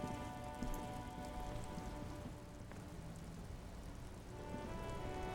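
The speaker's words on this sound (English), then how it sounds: "Stuck in the rain in a traffic jam, man." Steady rain falls in the video game Disco Elysium, a dense and even hiss of drops hitting surfaces that keeps going with no break. No voices are heard over it.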